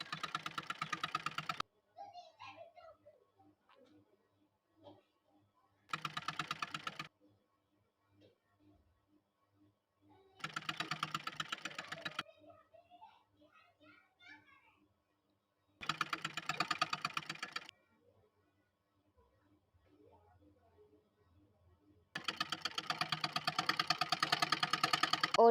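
A sewing machine stitching along the hem edge of a kurti runs in five loud, fast-rattling bursts separated by quiet pauses, the last burst longest.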